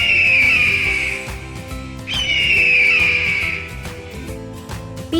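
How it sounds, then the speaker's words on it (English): An eagle call in a kids' bird-sound lesson: two long, high, shrill screeching cries, each a drawn-out whistling scream a few seconds long, fairly loud over a faint background hum. "Eagle, eagle."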